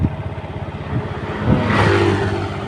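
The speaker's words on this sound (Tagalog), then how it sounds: "ito po motor ko oh XRM po oh" A small Honda XRM motorcycle engine running nearby, its rhythmic putter rising into a short rev midway, then settling into a steady idle hum.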